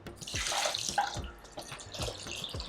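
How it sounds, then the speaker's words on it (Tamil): Water pours steadily into a pot of Mysore-style rasam base of salt and a crushed green chilli, a close, continuous splashing stream with small gurgles and drips, and no talking. "தேவையான அளவு தண்ணி ஊற்றிடலாம்."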